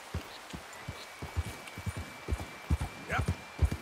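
Hooves clop along at a steady walking pace in Red Dead Redemption 2, soft thuds in a loose rhythm, with a faint tonal hum in the background.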